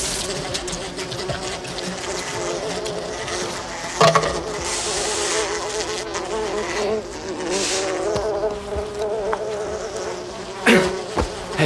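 A dense swarm of killer bees buzzes loudly and continuously in a film scene, the droning hum rising and falling, with brief knocks and a faint voice underneath.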